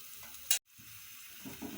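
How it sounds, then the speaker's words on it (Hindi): Finely chopped onions in three to five tablespoons of oil sizzle softly in a pan for baingan bharta, a quiet steady frying hiss broken by a brief louder clatter of stirring. "और प्याज को हम कर लेंगे हल्का सा सौते।"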